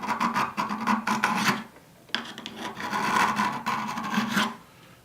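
Rasping strokes of a Selectool sharpener insert biting into a bayonet blade, close and steady, in two long bursts of repeated filing with a brief pause between them.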